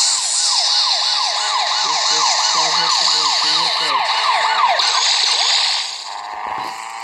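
A police car siren in the racing video game Asphalt Nitro wails in rapid rising-and-falling sweeps, loud and close, over engine and road noise, then cuts off near the end.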